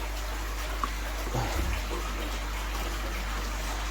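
Tap water runs steadily into a pond pressure filter container, a constant low rushing fill with a faint bump partway through.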